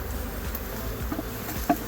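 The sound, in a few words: honey bees buzzing around hive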